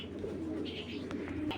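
Large-winged racer pigeons coo softly in a loft collection, a steady low murmur of calls close by with a few brighter chirps, against a constant background hum.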